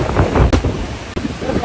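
Strong storm wind buffets the microphone on a beach at Boracay, a loud, rumbling roar with gusty swells and brief dips, no one speaking.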